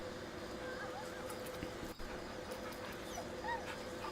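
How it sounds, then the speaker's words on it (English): Dog sounds in the video game Baldur's Gate 3, soft whimpers and yips mixed with clip-clop footsteps under a steady game ambience, with a voice talking over them. "Good dog."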